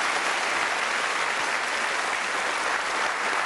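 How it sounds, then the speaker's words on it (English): Studio audience applause on a television game show, a dense, even wash of clapping that stays loud and unbroken throughout, with no talk over it. "the lady's clapping you there"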